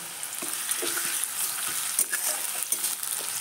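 Chopped onion and slit green chillies fry in hot oil in a kadai, giving a steady close sizzle broken by soft stirring scrapes, with no talking.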